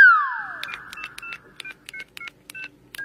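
Cartoon telephone dialing: a descending synthetic sweep, then a quick run of about a dozen short, evenly spaced keypad beeps, clean and alone.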